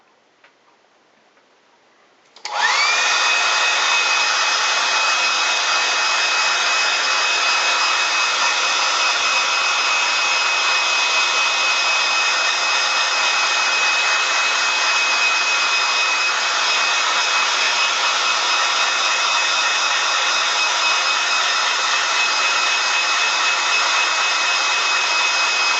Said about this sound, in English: I'm just going to use my hairdryer for a moment.